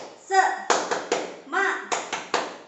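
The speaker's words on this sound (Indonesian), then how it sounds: "Tepuk semangat." Rhythmic 'tepuk semangat' spirit clap by adult participants in a training session: two rounds of a chanted call each followed by sharp patterned claps, close and lively, with voices shouting between the claps.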